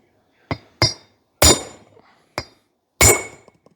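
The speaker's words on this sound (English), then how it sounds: "Now you got to drive it about 1/8 inch below the surface." Five sharp metallic hammer strikes drive a bolt below the surface, spaced irregularly with brief ringing decays and quiet gaps between, close and loud.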